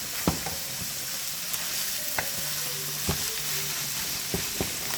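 Meat frying in a pan gives a constant hiss of sizzling, broken by a utensil stirring and knocking against the pan every second or so, with no talking.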